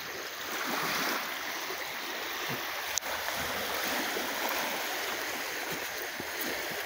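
Steady wash of beach water and surf close by while a kid swims, a continuous broadband rush with one sharp splash-like knock midway, no talk.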